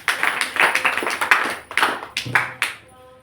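Audience clapping at an RCM marketing plan presentation, a quick burst of scattered hand claps that builds and then fades out, fairly close and loud with no talk over it.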